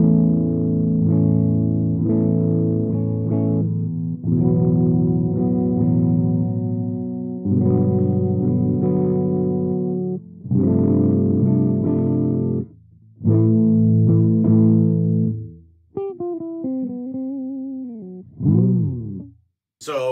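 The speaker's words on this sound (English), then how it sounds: "we're gonna turn the tone all the way down on both pickups, and it gets real dark." An SG electric guitar with the tone turned fully down on both pickups plays distorted sustained chords in loud bursts, dark and muffled in timbre, ending with a few bent single notes and a brief squeal.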